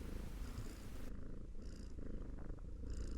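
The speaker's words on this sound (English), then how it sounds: "There's purring" A cat purring steadily and close by in the video game Dragon Age Inquisition, a soft continuous rumble with a slow rhythmic pulse, with no other sounds.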